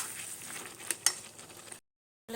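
A curry with cumin and ginger simmers in a pan, giving a soft, close sizzle with a couple of small clicks before cutting to silence.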